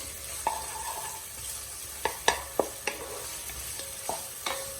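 A wooden spoon stirs marinara sauce in a pot, giving a soft steady simmer with several distinct scraping knocks against the pot, close and fairly quiet, no talking.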